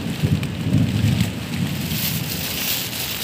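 Thunderstorm at sea with steady heavy rain hissing throughout and a low rumble of thunder rolling underneath, loud and continuous with no voices.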